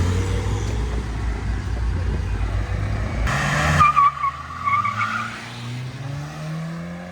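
A Renault Logan turbodiesel races an Opel Calibra at an amateur drag race, with close engines revving and rumbling, a brief harsh burst of tire squeal, then the cars pull away and the sound fades.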